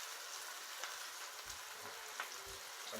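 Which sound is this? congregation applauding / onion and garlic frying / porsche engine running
onion and garlic frying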